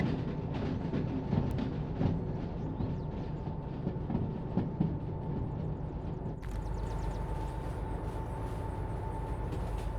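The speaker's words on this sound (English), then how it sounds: "wait for the end of the train to come past." In the railway game Derail Valley, a train rolls past with a steady rumbling drone and rhythmic wheel clatter, the sound shifting partway through as the cars continue by.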